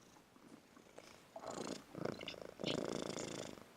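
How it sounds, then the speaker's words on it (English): Tig the cat purrs in soft rhythmic bursts, faint at first and then growing louder in several close, rumbling waves. "We could just have Tig purring."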